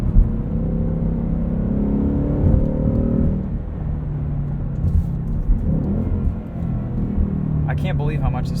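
A 2020 Ford Mustang GT Convertible Performance Pack with a V8 and six-speed manual gives a steady, close engine drone and road rumble from inside the car, with someone talking over it.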